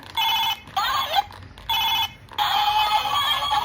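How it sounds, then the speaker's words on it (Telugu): A battery-powered toy landline phone plays a bright electronic ringtone tune after a button press. It comes in three loud, repeated bursts with brief gaps, and the last one is longer. "బ్యాటరీస్ అయితే వేసి బటన్ ప్రెస్ చేస్తే మ్యూజిక్ అనేది వస్తుంది."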